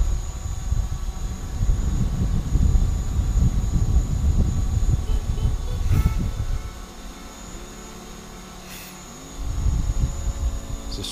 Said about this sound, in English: Just going to go ahead and do auto takeoff here.